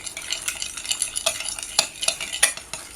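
A spoon mixing coleslaw sauce in a bowl, quick wet stirring scrapes and soft clinks in an irregular rhythm, close and clear with no voices.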